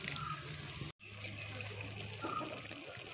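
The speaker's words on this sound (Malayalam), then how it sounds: "നമുക്കൊരു അര ഗ്ലാസ് വെള്ളം ഒഴിച്ചു കൊടുക്കാം" Half a glass of water is poured into a Kerala-style crab roast, a soft, faint trickling pour over a steady low hum, briefly interrupted by a moment of silence.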